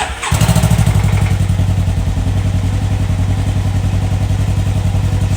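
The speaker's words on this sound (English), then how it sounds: "this is how it sounds with stock." Can-Am Ryker 600 three-wheeled motorcycle with its stock exhaust fires up and settles into a steady, loud, close idle with a deep even pulse that runs throughout.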